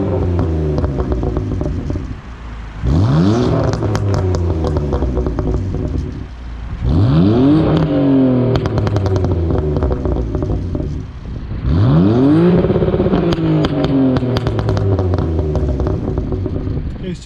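A tuned BMW E46 engine revs up in three loud sweeping bursts, each climbing and falling back to a rumbling idle, recorded close from inside the car with no talking.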